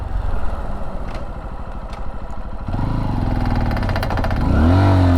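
2023 Honda XR150L single-cylinder motorcycle laboring up a hill, its engine thumping in a steady low chug close by that climbs into a louder, rising rev toward the end.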